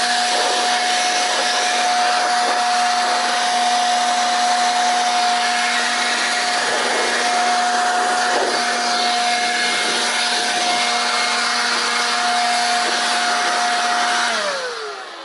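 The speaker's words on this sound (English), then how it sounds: "Blow out the filter cavity." Air blower roars steadily at close range, blowing out the filter cavity of a Mass Depot MASSFX AT231110 lawn mower; a loud, even broadband rush with a constant hum holds for about fourteen seconds, then cuts off abruptly.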